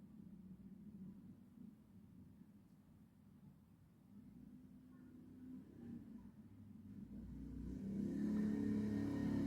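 Cars crawling through a city traffic jam in Malang make a low, steady engine rumble that starts faint and swells as vehicles draw nearer, with a revving surge near the end.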